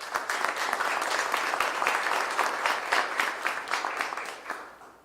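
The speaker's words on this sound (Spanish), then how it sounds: "pido un fuerte y caluroso aplauso" An audience at a regional launch event of the FAO's TAPE tool breaks into warm applause, many hands clapping in a steady, fairly distant roar that tapers off toward the end.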